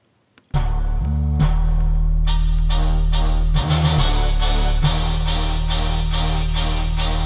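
A grime beat built from orchestral hits, brass, timpani and cymbals over a heavy sustained bass, starting abruptly after a short silence and playing loud and steady with repeating percussive accents.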